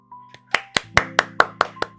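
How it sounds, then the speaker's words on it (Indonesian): About eight sharp, evenly spaced hand claps in a quick rhythm during a motivational talk, set against a steady low hum and tone. "Tepuk tangan buat kita semuanya."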